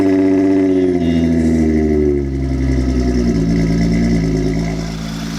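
A Volkswagen Mk3 with a VR6 engine idles steadily right after a jump start, a loud, close, even engine hum with a slight shift in tone partway through and no talking.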